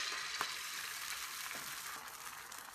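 Beaten egg batter frying in a thin film of oil on a preheated electric griddle, a steady soft sizzle with faint crackles and small pops, no voices.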